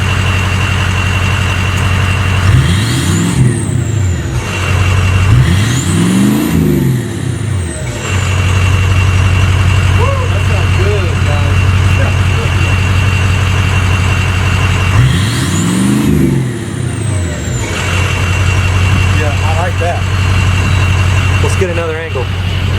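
Ford 6.0 Powerstroke diesel truck with an upgraded exhaust idles with a deep, steady rumble, broken by three sharp revs that rise and fall. Two come close together early on and one arrives later, with a faint whine alongside.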